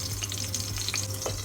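Oil sizzles and spatters in a pan as petai cooks, a soft hiss broken by scattered sharp pops and crackles under a low steady hum.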